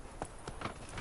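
A horse galloping in The Witcher 3 video game, with three or four quick hoof thuds in a steady clip-clop rhythm, close and moderately loud.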